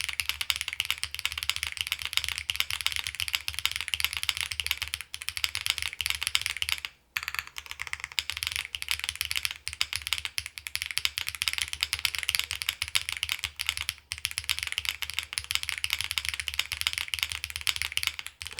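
Steady, close typing on a Xenox mechanical keyboard fitted with HMX Hydra switches and bottom foam, a dense run of muted, foamy clacks with a couple of brief pauses.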